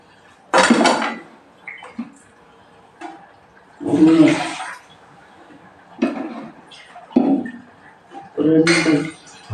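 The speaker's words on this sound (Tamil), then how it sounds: "இல்லை தண்ணி ஊற்றிக்கிறேன் அளந்து." Measured water poured into a cooking pot in a home kitchen, heard as several short splashing, clattering bursts separated by brief pauses, fairly close and loud.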